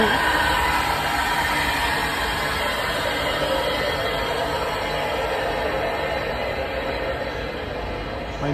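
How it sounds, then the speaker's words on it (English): A noisy train pulls into a station near Caserta, Italy, its steady rumble and rolling rail noise filling the whole stretch at a fairly loud, even level. "My noisy train arrived."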